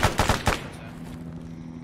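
Machine gun tracer fire in the Arma 3 military simulation game, three sharp close bursts in quick succession followed by a low, ringing tail.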